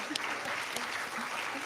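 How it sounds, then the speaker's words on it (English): An audience at a school event applauds its educators with steady, dense clapping that holds at an even level throughout, a few louder individual claps standing out and faint voices underneath. "Could we please have a big round of applause for our educators?"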